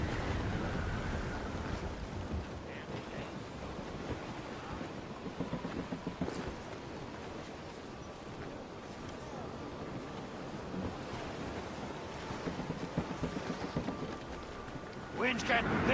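A storm at sea in Assassin's Creed Rogue, with steady roaring wind and crashing waves. The sound is dense and continuous throughout, with a few louder gusts and splashes, and faint crew voices call out beneath it.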